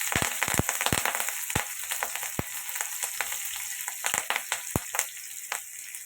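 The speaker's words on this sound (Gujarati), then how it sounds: "જીરું તતડી જાય એટલે આપણે એમાં મરચાં એડ કરીશું." Cumin seeds and chillies crackling in hot oil in a pan, a loud run of sharp, irregular pops and spits over a steady background sizzle, with no talk.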